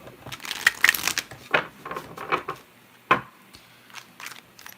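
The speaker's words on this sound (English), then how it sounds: "I'm gonna shuffle." Tarot cards are shuffled in several quick riffling bursts, crisp and close, with brief pauses between them.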